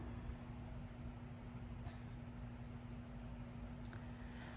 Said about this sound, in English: I don't know if you heard the fans in the background or any of the noise in the background,